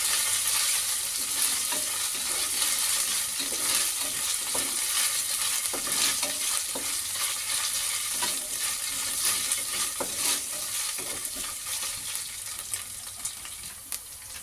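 Ginger garlic paste frying in a pan for a sprouted horse gram curry, a steady broadband sizzle with faint stirring scrapes and clicks throughout, no voices.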